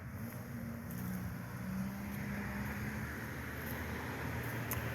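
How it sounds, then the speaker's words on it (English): Steady road traffic drones past a garden in a continuous low rumble, fairly faint and even, with no single vehicle standing out and no talking. "A lot of traffic this time of the day."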